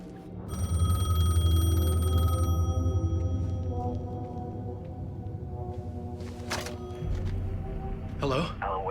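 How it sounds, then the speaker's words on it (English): A payphone in Alan Wake 2 rings with a sustained electronic tone for a few seconds and then falls silent, followed by a low droning ambience and a few sharp clicks. "payphone was ringing."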